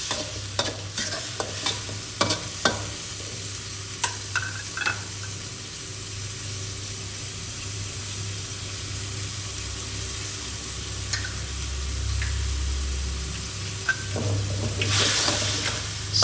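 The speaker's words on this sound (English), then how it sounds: "Stir and fry for a bit until it's all hot." A wok of carrot, corn and sliced chili tossed with oyster sauce, spatula scrapes and clinks over a steady close sizzle, with a louder hiss and stirring burst near the end; no voices.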